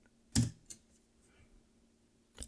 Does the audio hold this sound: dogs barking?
no